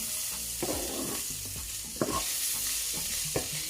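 Two teaspoons of curry powder sizzle in hot oil while a spoon stirs and scrapes the pan, a steady close frying hiss broken by several clinks and scrapes, with no talk.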